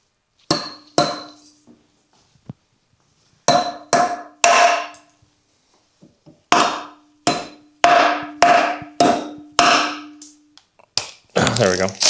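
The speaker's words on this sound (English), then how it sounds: "And this thing we can hammer off." Sharp metallic hammer strikes in irregular bursts of two to five blows, with pauses between, close and loud, while knocking a part off a Mercedes-Benz 190E during an M104 turbo engine swap.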